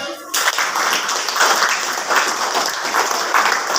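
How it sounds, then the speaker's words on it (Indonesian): Applause in a classroom setting, a short sound cuts off and then a steady burst of many hands clapping begins, sustained and fairly loud through to the end. "Ya, tepuk tangannya."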